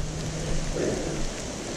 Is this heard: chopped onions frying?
no